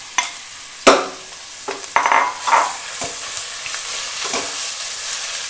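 Chopped onions drop into hot coconut oil for a chicken curry and sizzle loudly, with sharp bursts and clatters early on settling into a steady close crackle with no talk.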